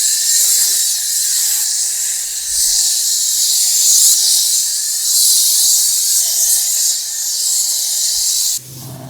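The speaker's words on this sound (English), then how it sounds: "This here, it's called a rotary tip or turbo nozzle." Pressure washer with a rotary turbo nozzle spraying a car in winter, a loud continuous high hiss of water jet that pulses slightly and cuts off abruptly near the end.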